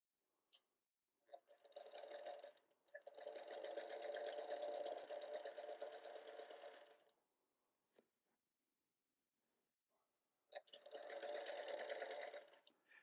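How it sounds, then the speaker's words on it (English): A sewing machine stitches a disappearing four patch quilt in two long steady runs with a short pause between, then a third burst near the end; close, even mechanical whirring with no talk. "I do enjoy sewing on this machine more and more every day"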